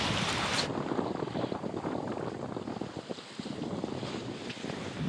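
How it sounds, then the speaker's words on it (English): Strong wind buffets a sailboat rounding the corner of Guadeloupe in building conditions, a steady loud roar of wind and water with heavy gusting noise over the microphone and no talk. "the wind's picking up."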